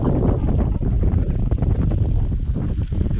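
Strong wind roars and buffets steadily right against the microphone, a continuous loud rumbling gust with no voices.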